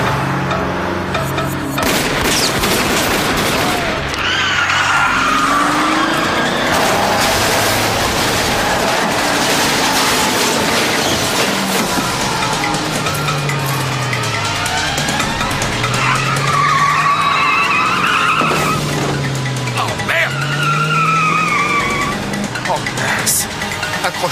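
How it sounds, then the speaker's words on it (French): A car tears along at speed with repeated loud tire squeals and skids, engine roaring throughout, in a police chase scene; voices speak over it at times. "En voilà un qui roule un peu vite."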